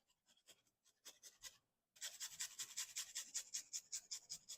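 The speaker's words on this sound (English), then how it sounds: "Now let's go ahead and grate some of this fresh ginger up in here." Fresh ginger grated by hand on a kitchen grater for a carrot and cucumber salad, heard as quick rhythmic rasping strokes: a few sparse scrapes at first, then a steady run of close, bright scratching passes.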